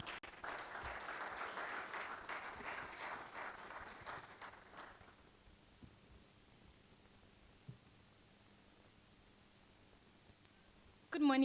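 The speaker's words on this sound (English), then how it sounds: "Let's give another applause," A colloquium audience claps loudly for about five seconds, then the applause fades into quiet room tone with faint shuffling, and a brief loud noise comes at the very end.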